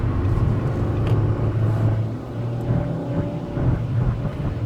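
A 2015 Nissan Rogue S with an Xtronic CVT cruising through downtown Los Angeles streets, a steady low engine and road rumble heard from inside the cabin, smooth and continuous without talk.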